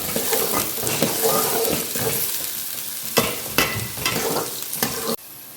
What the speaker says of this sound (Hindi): प्याज को अच्छा भून लेना।